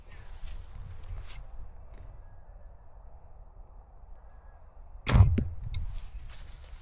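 An arrow shot outdoors thuds into a target with one sharp, loud impact that cuts through a faint, steady background hush.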